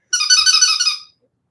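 A squeaky rubber dog toy squeezed once, giving a single loud, high, sustained squeak lasting about a second, then silence.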